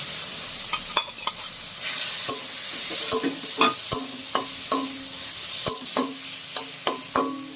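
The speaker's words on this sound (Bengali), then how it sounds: "সব মশলা কষানো হয়ে গেছে এবারে ডিমের ভুজিয়াটা দিয়ে দেবো" Egg bhujia frying with cooked-down spices and tomato, a steady sizzle under repeated sharp clinks and scrapes of a spatula stirring against the pan, close and clear with no talking.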